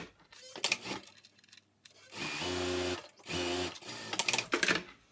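A home sewing machine stitches a half-inch hem on the cuff of a fleece hoodie in short bursts of rapid whirring, with pauses and handling noises between them, close and clear.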